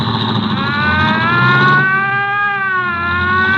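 Police car siren in a radio drama, a loud, steady wailing tone that dips and rises in pitch over an engine drone, heard alone without voices.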